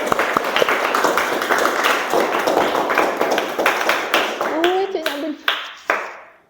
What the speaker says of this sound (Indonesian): Tepuk tangan untuk Bila.